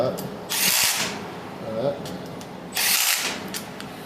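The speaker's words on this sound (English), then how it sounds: "That is a bit driver, like 1/4 inch hex chuck, and the clutch is set on it" A cordless bit driver with a quarter-inch hex chuck and its clutch set whirs in two short bursts up close, with quiet talk and workshop noise around them during an engine rebuild.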